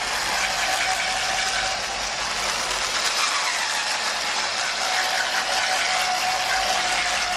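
Chocolate cake batter of flour and milk is beaten in a bowl, a steady, even whirring and scraping that goes on without a break and without speech.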